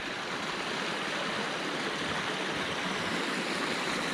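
Stream water rushing steadily on a moorland walk near Black Chew Head and Featherbed Moss, a continuous close broadband wash with no talk.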